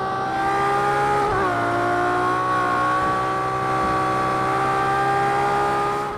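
A race car engine from the Project Cars 2 video game drones loud and close at high revs, its harmonic tones dipping briefly near the start as it shifts, then holding steady, with no voices.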